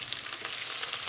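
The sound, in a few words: frying spices and herbs in oil in a pan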